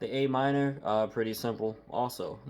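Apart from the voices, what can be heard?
No everyday noises stand out.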